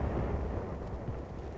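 Heavy 4.2-inch mortars fire in a battlefield barrage in hilly Korean War terrain, a dense, continuous low rumble of blasts and booms running together without clear gaps, loud and steady throughout.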